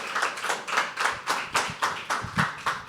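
Rhythmic audience clapping at a poetry open mic, a steady beat of about four claps per second, close and clear, with no talk over it.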